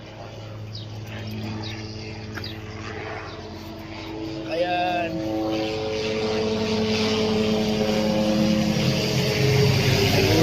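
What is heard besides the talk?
helicopter flying overhead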